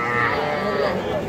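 Cattle moo loudly and continuously at the busy Raniganj livestock haat in Ghoraghat, Dinajpur, where young bulls and heifer calves are sold, one drawn-out call filling the short moment over crowd noise.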